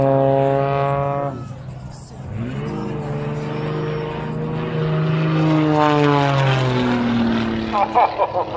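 An aerobatic propeller aircraft, newly assembled and test flown, roars past at the Barossa air show, its engine tone rising and falling loudly as it flies, with people talking over it.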